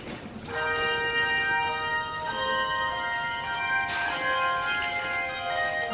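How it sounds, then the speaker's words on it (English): Carolers ring handbells inside a Fred Meyer store, with sustained, overlapping bell tones layered into a melody that stays steady and fairly loud throughout, against a low murmur of store ambience. "They're making music with bells."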